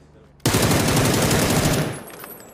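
Gunfire in PUBG erupts suddenly as a loud, close burst of rapid automatic shots that rattles on for about a second and a half, then trails off into echoing decay.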